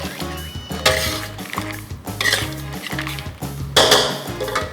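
Crab tossed with curry powder, spring onion and chilli in a pan over high heat gives repeated clanks and scrapes of a utensil on metal, loud and close, alongside sizzling and stirring, with no talk.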